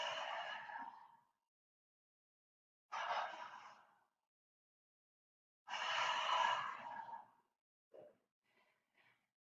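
Three loud, breathy voiced exhales during a yoga breathing exercise, each lasting one to two seconds with pauses between, followed by a few faint short breaths.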